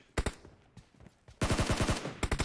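Rapid gunfire in a video game team deathmatch: a short burst, a few scattered shots, then a long sustained automatic volley and a final burst, loud and close, with no voices.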